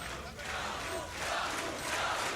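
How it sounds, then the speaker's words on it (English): Crowd at the ESL One Katowice 2015 Counter-Strike major playoff cheering and roaring in a large arena, a sustained swelling noise that grows louder toward the end, with no clear speech. "And the crowd cheering him on."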